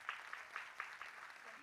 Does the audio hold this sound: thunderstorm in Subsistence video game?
no